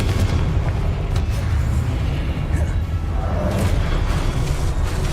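Confringo blast spell exploding in Hogwarts Legacy, a deep booming burst with rumbling low end that rolls continuously, loud and close, with a heavy, sustained roar.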